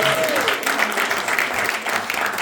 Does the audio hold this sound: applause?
yes